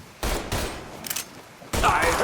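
Bursts of gunfire ring out in the crime action game Mafia III, several loud volleys separated by short pauses, with a voice heard faintly in the mix.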